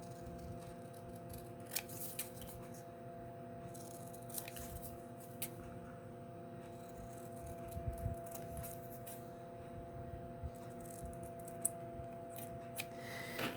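Scissors snip out a paper cutout at a craft table, a run of quiet, irregular cuts with soft paper rustling, heard close and alone.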